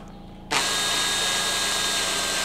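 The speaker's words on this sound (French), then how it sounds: "tu mets une perceuse au bout" Power drill spinning an engine valve during valve lapping: the motor starts abruptly and then whirs steadily and loudly at close range.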